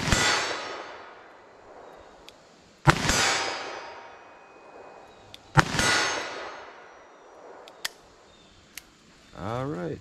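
Two loud, sharp .357 Magnum revolver shots from a Sig V-Crown test session, each followed by a long decaying echo, with a few faint metallic clicks between them and a brief voice near the end.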